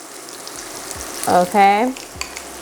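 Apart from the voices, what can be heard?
garlic butter sizzling on a cooking pork chop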